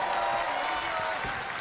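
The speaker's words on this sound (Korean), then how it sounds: "양 선수에게 큰 박수를 부탁드립니다" Steady, moderate applause from a crowd at a TOP FC mixed martial arts event, filling the arena for both fighters without breaks.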